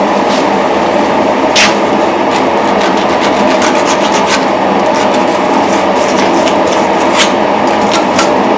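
A ground metal point is rubbed with 320-grit sandpaper, a steady close rasping hiss running without pause, with faint scratchy strokes on top.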